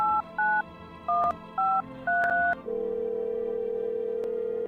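Phone keypad tones beep out a number, a quick irregular run of short two-tone presses, then a steady ringback or connecting tone holds on without pause.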